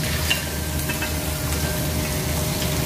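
Ham and bacon frying in oil in a pan, a dense, continuous crackling sizzle, loud and close, with a few faint tool scrapes.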